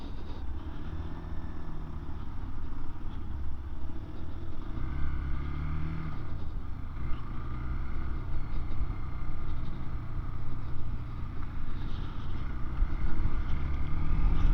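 A Hero XPulse 200 motorcycle, standard version, rides along a road. The engine gives a steady, close, low rumble mixed with wind noise, even and unbroken throughout.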